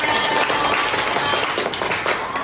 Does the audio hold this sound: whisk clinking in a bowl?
no